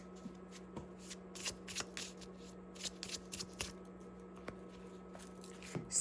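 A deck of affirmation cards is shuffled by hand in a quiet room, giving soft, repeated papery riffles and taps that recur in short bursts, close by and fairly faint, with no voices.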